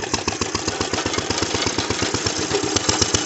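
A 1937 International LA tractor fitted with a lawnmower engine and a figure-eight belt drive runs close and loud, chugging in a fast, steady pulse throughout with no voices.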